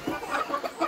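Brahma chickens give soft, close clucks in quick uneven bursts, a brief run of low fowl chatter with no talking.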